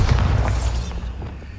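A deep, booming blast from the Bombarda spell in the Hogwarts Legacy video game, loud and close, with a heavy low rumble that swells at once and fades slowly over a second and a half, with no voice.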